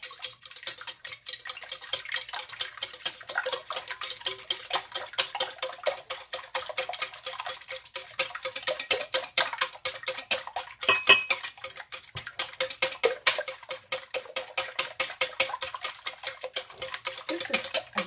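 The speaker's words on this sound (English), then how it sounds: "all I'm going to do right now is I'm going to start whisking it" Eggs whisked for French toast, a fast steady ticking clatter of a whisk against a bowl, close and continuous throughout with no talk.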